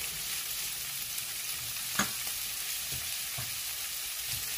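Chicken fajitas sizzle in a pan for tacos, a steady hissing fry with occasional soft clacks of stirring, moderately close and without voices.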